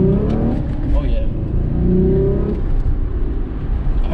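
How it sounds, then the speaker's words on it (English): A Hyundai sports car's V6 engine revs with a deep rumbling growl, rising and easing in a couple of surges, while someone talks over it. "this car, it sounds good, you know, like it has a proper V6 sound"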